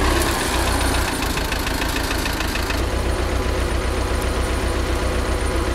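A heavy tractor engine idles loudly and close, with a rough, rapid knocking chug that runs steadily throughout.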